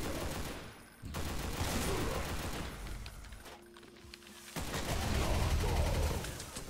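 Gunfire in the video game Project Brutality DOOM: dense, loud bursts of rapid shots and booming blasts that briefly drop away in a couple of short gaps.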